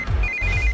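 A phone rings with a single sustained electronic ringtone tone, short and clear, sounding briefly over a low background rumble.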